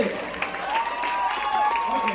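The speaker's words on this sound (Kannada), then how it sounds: "ಇನ್ನೊಂದ್ಸರಿ ಚಪ್ಪಾಳೆ" Applause from an audience at a school function follows a dance performance, steady clapping under a voice speaking over a sound system.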